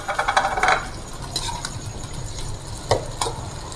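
Keema masala with freshly added chopped tomatoes sizzles in a pan while a spoon stirs and scrapes against the metal in a few sharp bursts, close and clear, with no talking.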